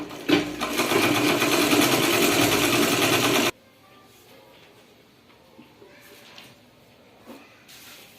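A sewing machine stitches the shoulder seams of a blouse in a continuous, fast whirring run that stops abruptly partway through, leaving faint handling noises and quiet rustles afterward.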